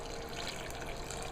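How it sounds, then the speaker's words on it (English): Water pours into a blender jar as a soft, steady splashing trickle, faint and brief. "And I pour my water in."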